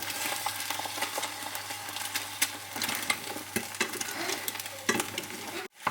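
Eggs sizzle and crackle in a hot pan with a steady frying hiss and occasional sharper pops and stirring scrapes, close by, ending in a brief clatter.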